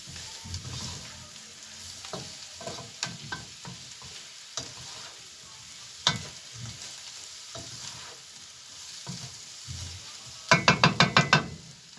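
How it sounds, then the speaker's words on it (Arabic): Potatoes and onion frying in a pan while being stirred, with scraping utensil strokes over a steady sizzle and a quick burst of rapid clatters near the end. "قلبي فيها لحد ما البصلة تاخد تدي مع البطاطس، تاخد تدبل بس كده"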